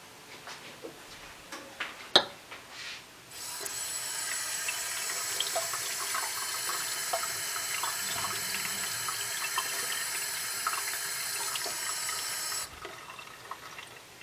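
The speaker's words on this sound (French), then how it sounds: "Alors il faut remplir à peu près l'eau à un peu moins de la moitié" Tap water runs steadily into an empty plastic Coke bottle for about nine seconds, a continuous hissing pour after a few soft handling clicks, close and fairly quiet with no talk.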